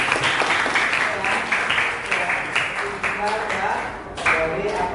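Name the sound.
audience applause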